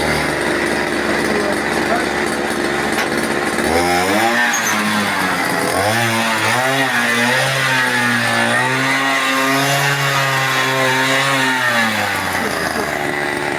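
A homemade mini tractor with a brush cutter engine buzzes loudly up close, its revs rising and falling through several throttle changes while people talk over the engine.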